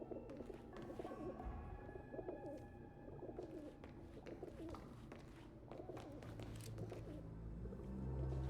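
Soft pigeon coos echo inside a tower in the Hitman video game, blended into a busy, low ambient background with faint music and no clear talking.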